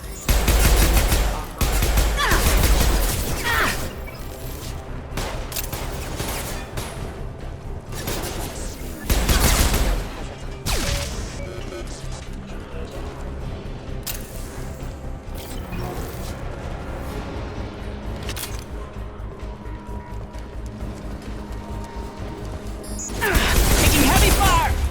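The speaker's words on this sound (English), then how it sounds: "Taking heavy fire!" Heavy gunfire erupts in a Mass Effect 2 firefight: loud, dense volleys burst at the start, again around nine seconds and at the end, with sustained crackling combat noise and voices throughout.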